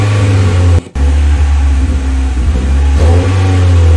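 Rebuilt engine in a Mazda Miata project car running close by, a loud steady idle with repeated revs rising and falling, plus one brief dropout near the start.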